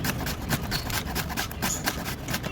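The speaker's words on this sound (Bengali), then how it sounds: "এইভাবে ভালো করে এটা গ্রেট করে নিতে হবে।" Taro root (kochu) is grated by hand, a close, dense run of rough rasping strokes repeating in quick rhythm with no talk.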